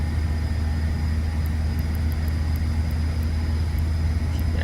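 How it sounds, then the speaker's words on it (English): A steady cockpit drone from a Lear 35A jet accelerating in a flight simulator game, a loud, unbroken engine roar with a low hum and faint periodic high ticks, and no talk. "Start to accelerate, so we can start getting those flaps up."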